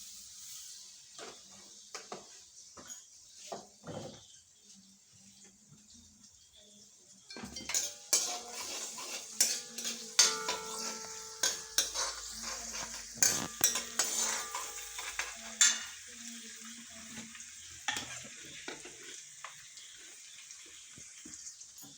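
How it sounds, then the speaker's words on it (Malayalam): Chopped onion and garlic go into coconut oil in a pan for a homestyle sardine curry, with a soft sizzle under repeated clinks and scrapes of a spoon and utensils that grow busier partway through, close by and with no talk. "ഉള്ളിയും വെളുത്തുള്ളി അരിഞ്ഞിൻ്റെ അതിൽ കുറച്ച് വെളിച്ചെണ്ണ ഒഴിച്ചു കൊടുക്കാം"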